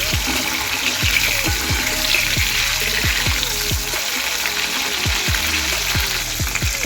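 Sizzling and bubbling from a pan of frying spinach and potato bhaji as tomatoes are added, a steady close hiss broken by repeated low thuds and clanks of stirring, with no talking.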